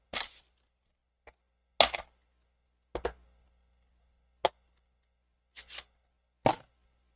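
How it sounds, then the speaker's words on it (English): Rubber stamp pressed onto colored cardstock on a silicone mat, giving about seven separate soft, dull thumps and taps, spaced irregularly over several seconds, close and fairly quiet with silence between them. "So I'm adding that background stamping to it."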